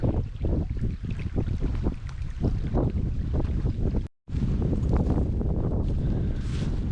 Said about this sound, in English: The wind here is so strong. It's just gusting through.